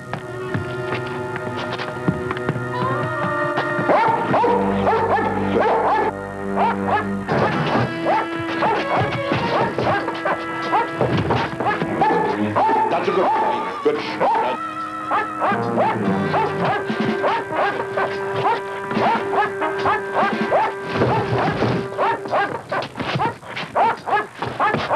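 Doberman dogs bark, yip and growl in a fast, overlapping clamor, with scrabbling paws and clattering noises amid a busy, loud scene from a 1976 film.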